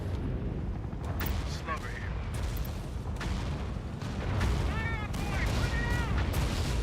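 Video game battle with U.S. Army units under fire: dull booming gunfire and artillery thuds roll continuously under radio chatter and spoken voices, with bursts of sharper shots throughout.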